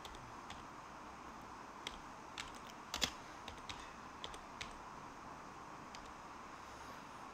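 Keys on a computer keyboard tap out a short search entry, a quiet, close sequence of light irregular clicks with one brief louder cluster midway over a faint room hush, no one speaking.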